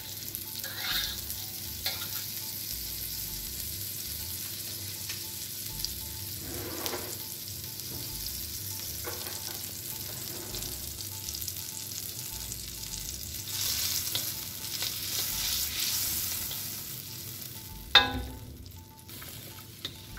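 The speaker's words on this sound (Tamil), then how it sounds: "இந்த பட்டர் முதல் நல்லா மெல்ட் பண்ணிட்டோம்" Butter melts in a large kadai over a medium flame, giving a soft, steady sizzle with occasional stirring scrapes and a sharper clink near the end.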